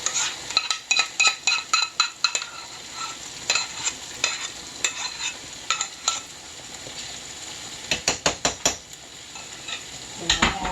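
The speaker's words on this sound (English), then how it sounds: "Scrape our pan." A utensil scrapes and stirs in a pan of smothered pork chops with gravy, rapid bursts of metallic scraping in uneven runs over a low sizzle, close and fairly loud with short pauses between strokes.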